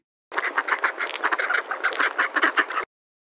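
A duck quacks in a quick, loud, close series of nasal calls lasting a couple of seconds, standing alone against silence.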